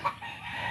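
A chicken gives a single brief, faint cluck, lasting under a second.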